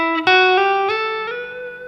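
Electric guitar lick from a song, a few clear plucked notes connected by hammer-ons and slides up the neck, each ringing and fading, played alone and close.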